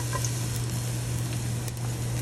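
Garlic and onions sizzling in a frying pan while cooking a Latin ratatouille, a steady close crackling hiss with a low hum beneath, no voices.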